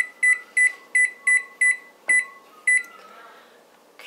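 A kitchen oven timer being set gives eight quick, sharp electronic beeps in an even rhythm, loud and close, and then a softer tone fades out.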